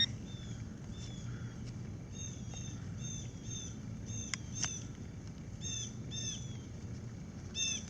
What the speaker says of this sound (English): Bird's mad at me.